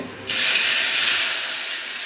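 Sharp hiss of a hot tempering splashing into a pan while beef gravy cooks in a home kitchen, rising abruptly and holding loud and steady for two seconds, then easing slightly, with no voices.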